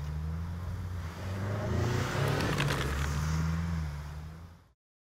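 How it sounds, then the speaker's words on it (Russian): A car fitted with wheel snow chains pushes across rough ground of snow and mud, its engine droning and rising steadily at close range before cutting off abruptly, with no voices. "Сейчас он преодолевает такой участок пересечен. Здесь кроме снега еще и грязь."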